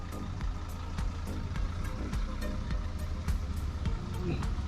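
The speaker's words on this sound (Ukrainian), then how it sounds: "поїхала Ніса до нового власника" A Nysa-522 van pulls away from nearby, a steady low engine rumble lasting throughout with a few faint clicks and higher tones over it.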